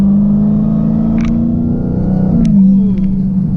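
A 2016 Dodge Challenger Hellcat driving in track mode over bumpy roads gives a steady, loud engine drone and rumble from inside the cabin, rising briefly in pitch near the end, with a few faint clicks and knocks over it.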